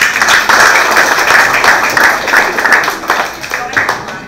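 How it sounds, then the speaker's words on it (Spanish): A live audience at a regional student quiz final in Guna Yala bursts into sustained clapping for a student contestant, loud and close, a steady wash of applause that thins toward the end. "El aplauso para Juan."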